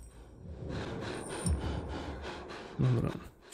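A creature panting in Dying Light 2, heavy raspy breaths and gasps in short repeated bursts, fairly close, with a sharper snort-like intake near the end.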